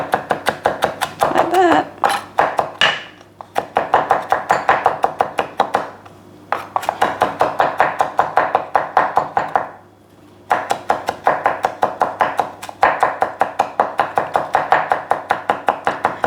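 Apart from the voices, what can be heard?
knife chopping and mincing garlic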